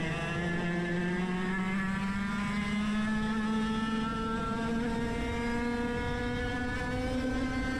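Several 100cc racing kart engines, one of them a shifter kart, drone on a track, a loud steady buzzing whine whose pitch rises slowly as the kart accelerates, with no talk over it.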